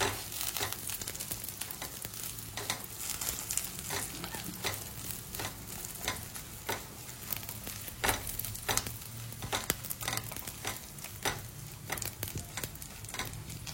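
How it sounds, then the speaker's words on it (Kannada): Raisins and cashews fry gently in a pan for jackfruit kheer, a steady close sizzle with repeated sharp scraping strokes of stirring throughout, no talk. "ಸೊ ತುಂಬಾ ಡೀಪ್ ಫ್ರೈ ಆಗೋದು ಬೇಡ, ದ್ರಾಕ್ಷಿ ಗೇರು ಬೀಜ ಎಲ್ಲ."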